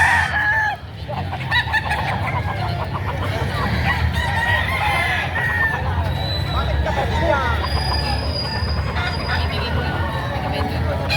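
Chickens clucking and roosters crowing repeatedly amid a busy crowd of chattering voices at a chicken market, with lively poultry calls throughout.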